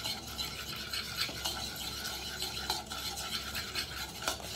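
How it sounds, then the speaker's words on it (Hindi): A chicken drumstick marinade with vinegar is stirred and mixed by hand, with soft repeated scraping and clinking of a utensil against a bowl, close and quiet. "इस सारे मैरिनेशन को आपने अच्छे से मिक्स करना है"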